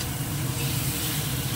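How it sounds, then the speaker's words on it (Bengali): Fish pieces are stirred in hot oil in a kadai, giving a loud, dense, continuous sizzle with no talking over it. "এই মাছটা দিয়ে একটুখানি এর মধ্যে নেড়ে নেবো"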